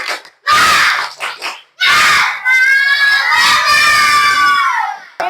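A group of children at a school physical education lesson shout a rhythmic clapping cheer together, with loud bursts of voices and claps followed by a long, drawn-out excited yell.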